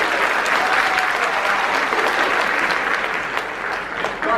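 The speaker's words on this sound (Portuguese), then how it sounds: "Palmas para ela, gente." Audience applause for a TV Cultura journalist arriving on stage at a school literary event, a dense, steady wash of many hands clapping that holds loud and even throughout without talk.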